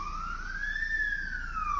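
A fire engine siren wails steadily with a slow rising and falling pitch sweep, loud and continuous over low traffic rumble.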